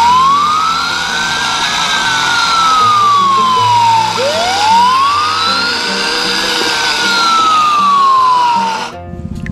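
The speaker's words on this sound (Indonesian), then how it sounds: "Mobil pemadam kebakaran." A loud toy fire truck siren wails in slow rising and falling sweeps, twice, over a rumbling engine, then cuts off abruptly.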